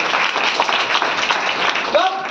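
A congregation at a Sunday service in a Full Gospel Church in Hazaribagh claps together in a dense, steady wash of sound that fills the whole moment, with a voice rising briefly near the end.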